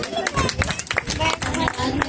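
An audience claps to welcome children at a community library event in Khatima, a steady dense patter heard under and alongside a speaking voice.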